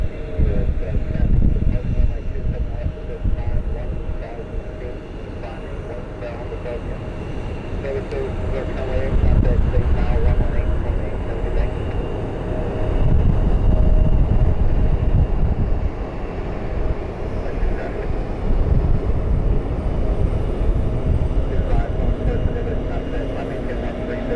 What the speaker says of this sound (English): the aircraft doing a touch and go here is a Diamond Twin Star